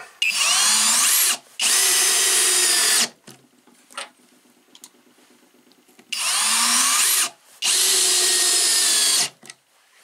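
A Skil 3071 cordless drill driving screws into wood: four loud, whirring bursts of one to two seconds each, paired in two groups with brief pauses between them, and a quiet clicking lull in the middle.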